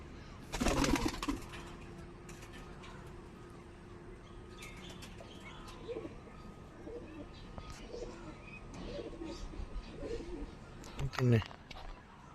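Wings clap and flap loudly at the start as a pigeon takes off, followed by soft cooing and occasional chirps, with another burst of flapping near the end.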